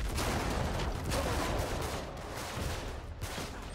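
Heavy gunfire in a video game, a continuous crackling barrage of rapid shots that stays loud and dense, easing slightly toward the end, with no talk over it.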